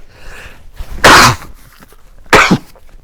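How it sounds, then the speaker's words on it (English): Two sharp sneezes about a second apart, loud and close, with quiet in between. "I'm going to sneeze."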